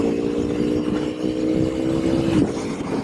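Aprilia V4 motorcycle engine pulling steadily while riding on a road, a continuous near hum with a brief rising rev toward the end, no talk.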